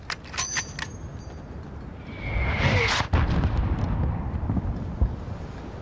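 A rumbling mortar blast in Call of Duty: Modern Warfare, a mid-level explosive thud swelling into a sustained roar after a few sharp metallic clicks, with a falling whistle-like tone and battlefield noise around it.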